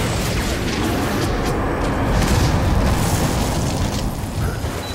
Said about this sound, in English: it's a good job we were laying down and able to avoid all these explosions